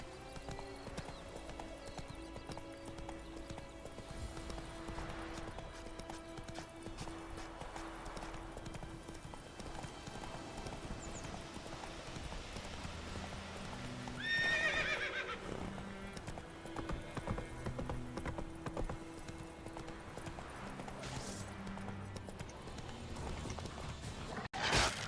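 Horse hooves clip-clop steadily in the video game Witcher 3, with a whinny and occasional mechanical game sounds, all fairly quiet.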